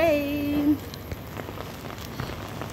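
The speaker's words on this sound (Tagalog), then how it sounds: "Ay, naulan! Rain, rain!" Light rain pattering on a surface outdoors, a soft, steady scatter of nearby drops that continues after a short voice at the start.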